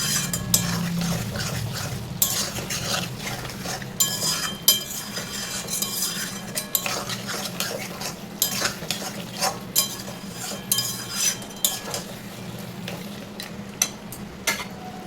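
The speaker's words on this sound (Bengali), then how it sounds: "এবার আমি দিচ্ছি টমেটো কুচি। আবারও একটু ভালো করে কষাবো।" Mutton curry with chopped tomatoes being stirred and sautéed in a pot, a steady stream of scraping spoon clicks and metallic taps over a soft, continuous frying sizzle, close and moderately loud with no talking.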